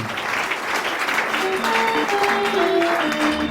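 A church congregation applauds in a steady, dense wash of hand claps while faint sung or sustained tones drift underneath, continuous and fairly loud for the whole stretch.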